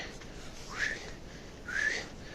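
A person tries to whistle outdoors at night in the cold, producing two faint, breathy rising whistle attempts spaced about a second apart, with no talking.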